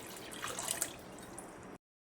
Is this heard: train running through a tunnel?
no